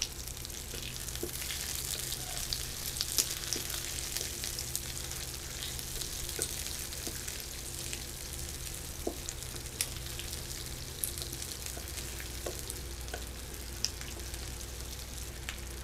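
Cut onion pieces fry steadily in a pan for a Chinese-style chicken curry, a continuous soft sizzle with faint crackles and occasional stirring clicks, close and alone with no talk.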